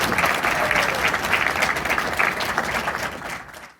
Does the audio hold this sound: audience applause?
yes